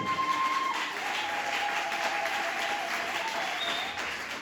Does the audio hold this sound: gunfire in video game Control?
no